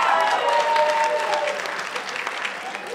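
A comedy club audience clapping, a dense burst of applause from the crowd that starts loud and tapers slightly, with voices mixed in.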